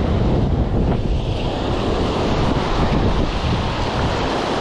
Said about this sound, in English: We've got a little whitewash out the back there, and it's just reforming.